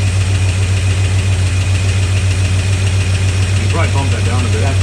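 A 1969 Dodge Dart V8 idles steadily and loud just after a carburetor replacement and header gasket swap, with a strong low rumble throughout; voices talk over it near the end.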